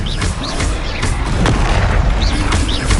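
Bombarda explosion spells boom through a hectic Hogwarts Legacy battle, loud and continuous, with heavy low blasts, crackling debris and whooshing magical effects layered throughout.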